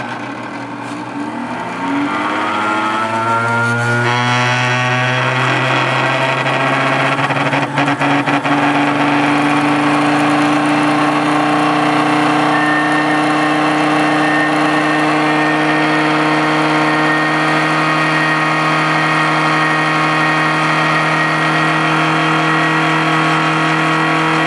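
A VirTis Tempest IQ2 lab homogenizer set to 10,000 RPM spins up over a few seconds, then holds a loud, steady mechanical whine with layered tones that continues unbroken to the end.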